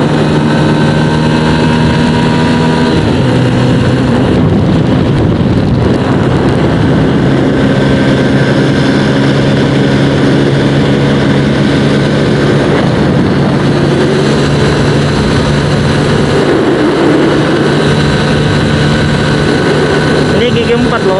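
Yamaha Jupiter Z1 motorcycle with a 13T-41T gear set held in fourth gear near top speed, a loud continuous engine drone with steady harmonic whine mixed with wind rush.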